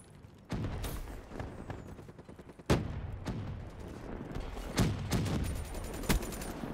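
Gunfire in Call of Duty Black Ops III multiplayer on the Skyjacked map, aimed at a sentry gun: rapid bursts of shots and sharp cracks, moderately loud, with several stronger impacts punctuating the steady firing.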